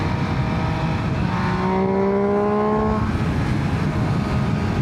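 An MV Agusta Brutale 800RR naked motorcycle rides through city streets, its engine droning loud and steady with a rising rev as it accelerates, wind noise constant underneath.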